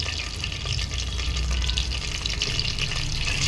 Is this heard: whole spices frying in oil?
yes